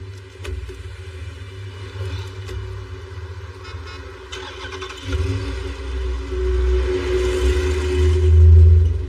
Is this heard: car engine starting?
yes